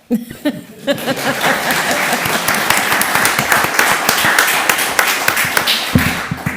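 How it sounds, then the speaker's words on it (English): A scattered few claps open, then the room breaks into full, sustained applause at a town board of commissioners meeting in Beaufort, loud and close, with a couple of sharp taps near the end. "You can clap."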